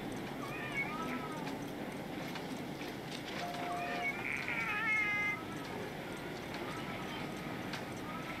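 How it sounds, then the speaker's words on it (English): A cat meows several times amid a busy television scene, the cries faint and scattered under background noise and talk. "Those cat sounds are annoying."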